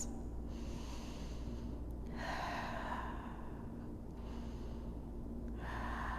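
Slow, deep breaths during a yoga stretch, long audible inhales and exhales close to the microphone, about two full breath cycles against a low steady background hum.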